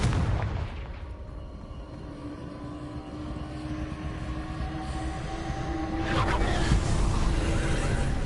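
Confringo blasting spell in the video game Hogwarts Legacy: a rumbling low explosive roar that swells and sustains, with a second brighter surge of blast noise near the end, loud and close.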